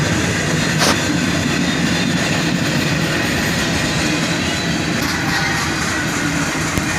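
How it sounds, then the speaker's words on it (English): A CSX freight train with auto racks at the rear rolls past at steady volume, a continuous rumble of wheels on rail with faint clicking and no voices. "And some auto racks bring up the rear of the train here."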